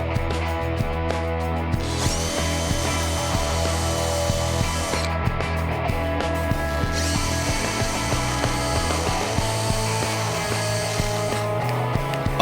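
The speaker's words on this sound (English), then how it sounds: "pre-drill and drive the screws" A power drill pre-drills and drives screws into wood while a deer wall pedestal mount is built, with steady, loud whirring and ratcheting that pauses briefly twice, heard alone without talk.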